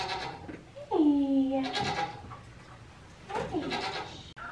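Goats bleat at a milk stand during training, two loud wavering calls close by, the first long and drawn out, the second shorter, with a little background noise between.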